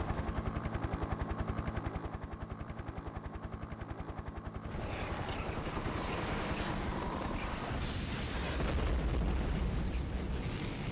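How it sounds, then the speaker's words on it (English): Missiles fired and exploding in the video game Parasite Eve during a fight with a giant slime monster, a rapid, even pulsing volley that gives way to a dense, sustained roar of blasts. "Time to shoot some missiles."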